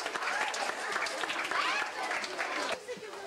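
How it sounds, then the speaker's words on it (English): Swim team banquet audience applauding the parents, a dense wash of clapping from a crowd that holds steady for about three seconds before easing, with murmuring voices mixed underneath. "So I think you should all give your parents a round of applause."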